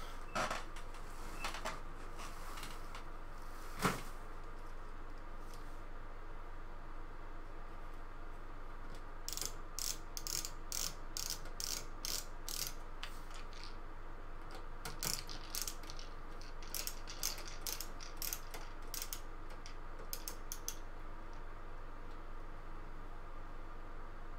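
Screws being driven to fasten a PC power supply into its case, heard as repeated bursts of rapid ratcheting clicks, close and fairly quiet, over a steady background hiss with no speech.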